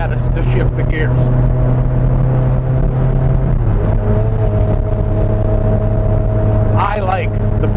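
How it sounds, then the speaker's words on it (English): A 2004 Ferrari Challenge Stradale with paddle-shift gearbox revs and blips through downshifts, the engine note droning loud and near, then dropping in pitch midway as gears change, with a sharp rising rev near the end. "Listen to these downshifts. It just doesn't get much better than that."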